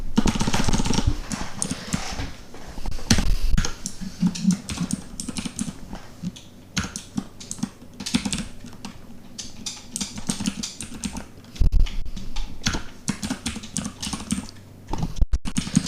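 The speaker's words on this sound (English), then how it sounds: "we're gonna type it in here" Rapid, continuous clatter of keys on a computer keyboard, with dense bursts of typing and brief pauses throughout.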